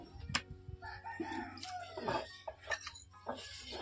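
A rooster crows close by during a village Makar Sankranti festival day, a couple of short strained calls mixed with clucking and other farmyard noise.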